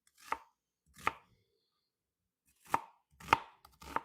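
Knife chopping through buttercup squash on a board, five sharp separate cuts spaced unevenly with quiet gaps between, close and clear with no talking.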